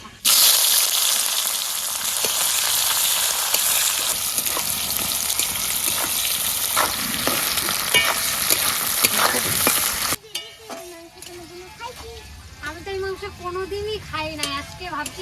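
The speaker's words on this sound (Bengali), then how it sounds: "দেবো তেজপাতা এলাচ লবঙ্গ আর শুকনো লঙ্কা কুচনো পেঁয়াজ" Bay leaf, cardamom, cloves, dried red chilli and chopped onion fry loudly in hot oil for about ten seconds as a dense, crackling sizzle, then the scene cuts to people talking in a quieter room.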